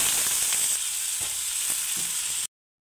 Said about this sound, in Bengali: আর এখন একটু আলু ভাজবো